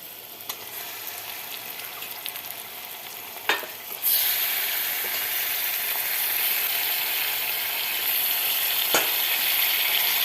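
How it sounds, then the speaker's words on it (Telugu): Onion pieces fry in hot oil for a mutton curry, a continuous close sizzle that grows louder and brighter partway through, with a few sharp scrapes of a stirring spoon and no talking. "ఉల్లిపాయ ముక్కలు వేపుతున్నాను"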